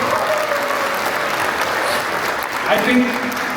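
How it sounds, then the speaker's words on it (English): At a film premiere in San Francisco, an audience gives a big round of applause for the actor who played the Dalai Lama, dense continuous clapping with a voice faintly audible beneath it. "Give him a big round of applause."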